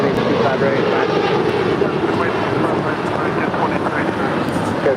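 A jet airliner roars on takeoff from runway 25 right at LAX, a loud, steady, broadband engine rumble with wind buffeting the microphone throughout.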